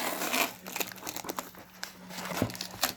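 Sticky tape peeled off parcels while unboxing board games, heard as close crinkling and tearing rasps with crackly bursts, one sharp rip near the end and a soft low hum underneath.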